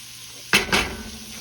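Turkey necks hit a hot pan with two sharp bursts of sizzle close by, the frying then settling into a steady low crackle with faint clinks of the pan, no talking.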